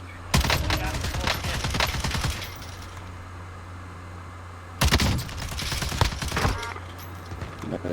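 LMG gunfire in Call of Duty Warzone: two loud bursts of rapid automatic fire, the first lasting about two seconds and the second about a second and a half, separated by quieter game ambience.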